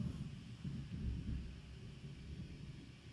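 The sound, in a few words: thunder from a thunderstorm outside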